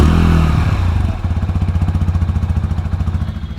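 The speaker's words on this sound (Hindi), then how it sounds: "सो सबसे पहले आइडल कंडीशन पे आप इसकी साउंड सुनना।" A 2026 TVS Apache RTR 160 2V Racing Edition with a fuel-injected 160cc engine settles from a brief higher note into a steady, close idle thumping in an even, quick rhythm.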